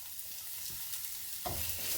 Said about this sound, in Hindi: जीरे को यहाँ पर हम हल्का सा भून लेंगे।